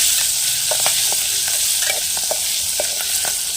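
Loud, continuous frying sizzle of stuffed chillies in hot oil, close by, with faint scraping and stirring clicks scattered throughout and no voices.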